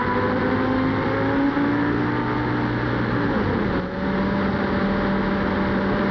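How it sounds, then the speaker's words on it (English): Thierry Boutsen's 1990 Formula One car at the start of the Belgian Grand Prix at Spa, heard onboard: a loud, continuous high engine whine that climbs in pitch, shifts down abruptly, then rises again. "Now here is a look at the start from on board Terry Boutsen's car."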